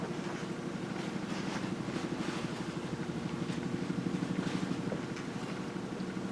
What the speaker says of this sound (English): I hear a chopper flying over the shop.